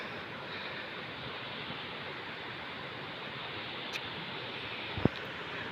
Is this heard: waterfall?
yes